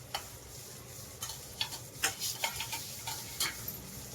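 Grated dry coconut is stirred in a pan for a spinach bhaji with moong and masoor dal, with a quiet background sizzle and a run of light, irregular spatula ticks and scrapes.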